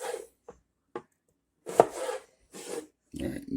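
Knife chopping potatoes into quarter-inch fry strips, with a few separate crisp chops spaced apart, then heavier clustered cuts near the end.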